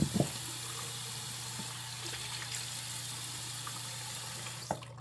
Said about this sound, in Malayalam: നമ്മൾ തണുത്ത വെള്ളത്തിലാണ് നമ്മൾ മുഖം കഴുകേണ്ടത്